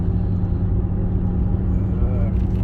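A high-mileage Mercedes-Benz W126 300 SE on the move, heard from inside as a loud, steady low rumble of engine and road noise with no breaks, while a person talks over it.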